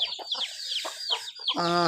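Chickens cluck in short, repeated calls close by, ending in a louder, drawn-out squawk.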